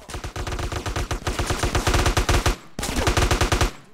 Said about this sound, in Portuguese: o som dessas armas aqui tá alto pra cacete